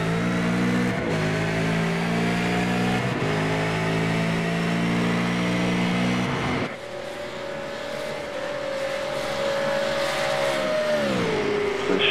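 V8 Supercars in a sim racing game at the Montreal circuit, engines revving hard through gear changes with stepped rising tones, then a single sustained high engine note that drops near the end; loud and continuous, no talk.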